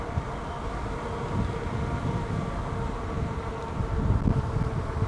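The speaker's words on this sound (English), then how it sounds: "the wind's really hard blowing back at me" Strong headwind roaring past an all-wheel-drive e-bike rider at speed, a steady loud rushing buffet that swells near the end, with no talking.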